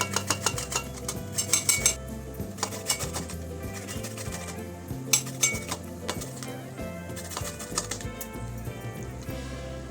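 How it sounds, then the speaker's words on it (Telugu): Small gooseberries being chopped in a vegetable cutter, with repeated clinking, rattling strikes of blade and container close by, steady and busy throughout, with music playing underneath. "ఏవైతే ఉసిరికాయలు ఉన్నాయో వాటిని ఇలాగా చిన్న చిన్న పీసెస్గా కట్టర్లో పెట్టి కట్ చేసుకోవాలి."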